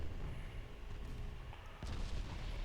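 Battleship guns fire in Ultimate Admiral Dreadnoughts, with muffled low booms rolling under a constant rumble and one sharper report near the end, fairly faint overall.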